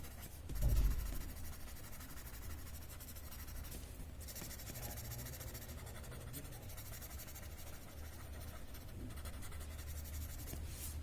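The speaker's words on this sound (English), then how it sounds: "I'm just going to blend the graphite that I have." Graphite shading blended on paper with a soft tool, a faint continuous scratchy rubbing in close, quiet and even throughout after a brief low thump at the start.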